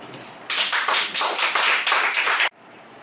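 After a poetry reading, an audience bursts into applause that stays fairly even for about two seconds and then cuts off abruptly.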